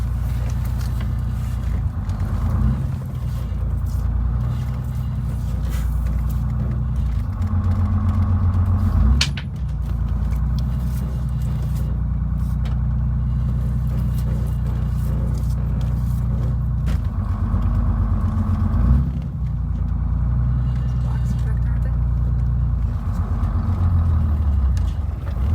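A vintage RV bus conversion engine reversing slowly onto wheel blocks, giving a steady, loud low rumble that holds throughout with small surges in level and no talk.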